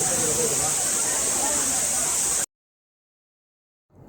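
Agastyar waterfall, which flows all year round, roars as a steady, dense rush of falling water. The sound cuts off abruptly partway through into silence, and only a faint return of noise comes near the end.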